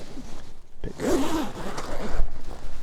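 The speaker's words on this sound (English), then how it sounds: "First, you want to unzip the canvas." A canvas bedroll sleep system being unzipped, a loud close zipper pull that runs for a couple of seconds with a short pause and a rasping continuation.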